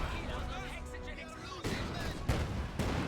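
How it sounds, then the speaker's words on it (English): Mortar barrage in Company of Heroes 2, a short-range strike landing as several heavy booming impacts in quick succession, loud and close, following a stretch of battlefield noise with voices. "That's a short range barrage."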